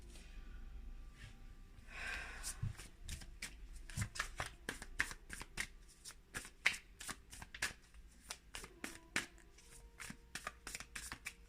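Tarot cards are shuffled close up in a quiet room, giving a long run of quick, crisp flicks and riffles that speed up in irregular bursts, with soft breathing and no speech.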